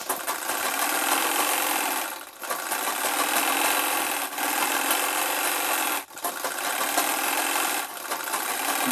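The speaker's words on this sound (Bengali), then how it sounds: "তো ছোটটাকে এখানে সেলাই করে জয়েনিং করেই পুরোটা সেলাই করে নিচ্ছি।" Sewing machine stitching petticoat panels together, a steady close whirring run broken by three brief pauses.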